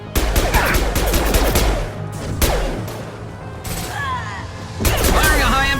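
Rapid bursts of gunfire and heavy impacts ring out in the video game Mass Effect Legendary during combat, loud and dense at first, then a short lull before another volley.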